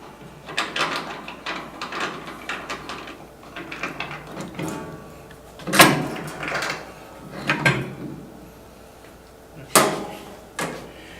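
Metal door and handlebar being unbolted and lifted off a Presidential soft-serve ice cream machine: a series of close clanks, knocks and ratcheting clicks at irregular intervals, with a few sharper metallic bangs.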